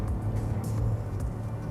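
Steady, loud low-pitched engine drone from inside a Chevrolet Onix cabin under throttle, with a faint hum of vibration through the firewall, continuous for under two seconds and with no one talking.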